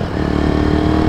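Kawasaki W175 motorcycle on a test ride after a main jet, pilot jet and SSS gear set change, its single-cylinder engine held at high revs in a loud, steady, close drone with a rapid pulsing beat.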